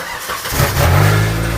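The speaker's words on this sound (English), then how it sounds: "All right, Billy, start her up" A truck engine cranks over and catches, then settles into a loud, rumbling idle close by, with no talking during the start-up.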